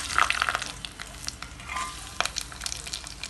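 Bay leaf, cashews and biryani masala fry in hot oil for a chicken pulao, a steady close sizzle with stirring scrapes and clinks.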